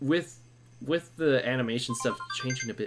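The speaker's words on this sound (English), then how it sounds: "That's a phone call." A phone rings with a faint repeating electronic tone beneath people talking during a conversation, the ring soft and partly masked by the voices.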